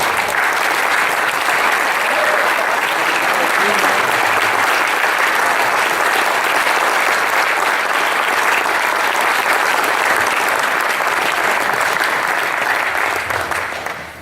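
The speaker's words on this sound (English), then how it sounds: "Stand up, please, and give a round of applause." A large audience applauds steadily at an athletic hall of fame awards ceremony, dense continuous clapping that holds loud and even for about fourteen seconds before tapering at the end.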